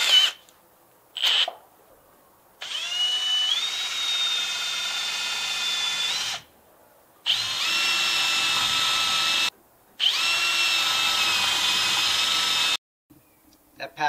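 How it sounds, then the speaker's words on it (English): A power drill with a paddle bit countersinks bolt holes in a wooden garden fence gate, running in three long whining bursts separated by short pauses, loud and close. "I'm going to use a paddle bit to countersink those heads."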